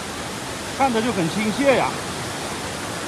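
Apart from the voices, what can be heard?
small mountain stream flowing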